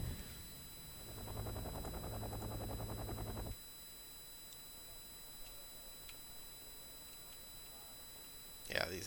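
Rapid gunfire from a helicopter in a combat strategy video game rattles in a steady burst for a few seconds over a constant hum, then stops, leaving low background noise and a brief click near the end.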